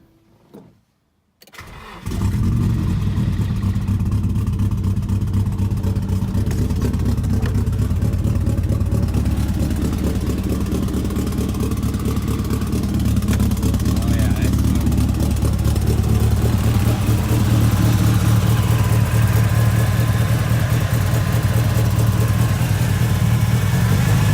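A Nissan S14 with an SR20 engine that had trouble running cranks, catches and settles into a loud, steady idle with a rough, pulsing drone that holds on close to the microphone.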